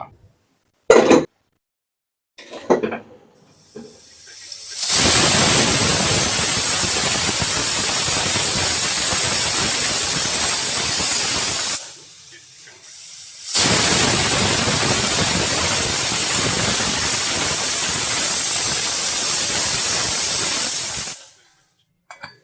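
A pressure cooker hisses and whistles loudly on the stove while chicken pulao cooks, two long steady steam blasts separated by a short pause, after a few faint clicks at the start.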